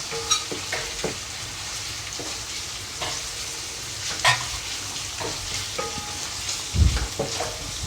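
Onions fry in a pan with a soft, continuous hiss and occasional light clinks of stirring, heard from close but at modest volume, with no voices.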